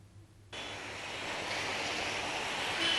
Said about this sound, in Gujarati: ભારે પવન સાથે વરસાદ વરસી રહ્યો છે.